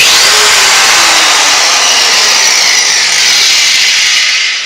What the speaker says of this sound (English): Here we have an angle grinder. This is used for cutting through welds and doing body work.